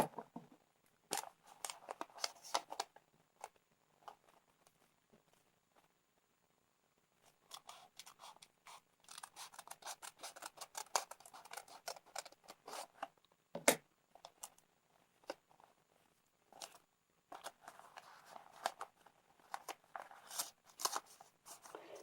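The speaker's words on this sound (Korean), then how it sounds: "중심에 접은 선까지 위에 한 장만 잘라줍니다" Scissors snip through folded origami paper in quick clustered bursts of crisp cuts separated by quiet pauses, close and fairly soft, with no voices.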